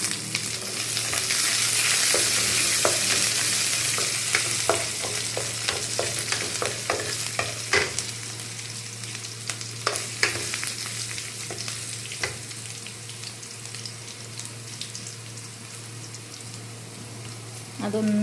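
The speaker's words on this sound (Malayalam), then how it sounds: "ഇത്രയും ഇട്ടിട്ട് നമുക്ക് ഇളക്കാം കേട്ടോ" Fish curry ingredients, including onion, sizzle in a hot pan while being stirred, a continuous crackling fry with frequent scraping spoon clicks; a person speaks briefly over the cooking.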